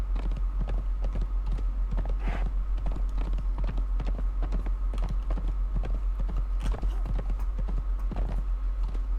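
Steady clip-clop of horse hooves trotting in the Conan Exiles video game, continuous and moderately loud over a constant low hum, with no one speaking.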